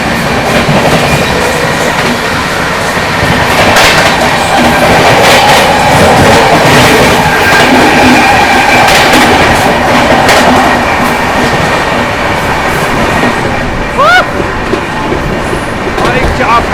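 Prayagraj–New Delhi Humsafar Express train running at speed, with a loud continuous rumble of wheels and rail noise, rhythmic clickety-clack and brief high wheel squeals near the end, heard close and steady throughout.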